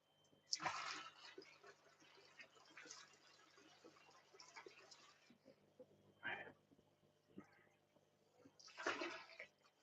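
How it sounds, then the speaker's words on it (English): Water splashing in a home fish tank, broadband wet sloshing bursts at close range, with a long churning stretch early on and a few shorter splashes later, no talk. "Splashing water everywhere as always."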